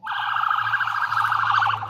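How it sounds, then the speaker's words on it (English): Emergency sirens from ambulances and police cars racing to a high school in Barrow County, Georgia, wail steadily with a fast warbling rise and fall. The sound is moderately loud and continuous, with a low engine hum beneath it. "Ambulances and police cars racing to Appalachia High School"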